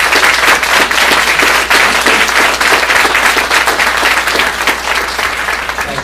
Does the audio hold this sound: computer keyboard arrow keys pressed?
no